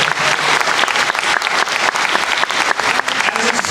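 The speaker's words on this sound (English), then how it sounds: "can we give her a huge round of applause?" Loud, dense audience applause fills the whole stretch at a hosted community event in Cape Coral, Florida, steady and sustained with a faint crowd murmur beneath.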